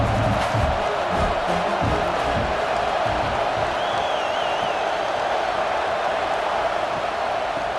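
A football stadium crowd at an indoor game between Toronto Dynamo and the Killeen Stallions roars and cheers in a sustained, distant wash of voices, with a few whoops rising above the steady din.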